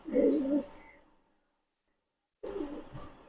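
Damascene, racer and Budapest high flyer pigeons coo softly nearby, low throaty murmurs at the start, a pause of silence, then another burst of cooing.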